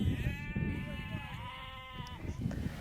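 A single sheep in a pen on the Falkland Islands lets out one long, quavering bleat that lasts nearly two seconds, close and steady over soft background noise.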